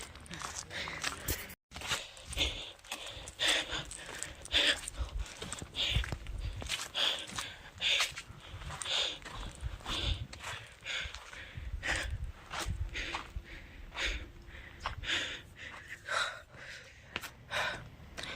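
A person walking around an old fort in summer heat pants heavily, taking repeated short, rhythmic breaths close to the microphone for the whole stretch, with faint footsteps.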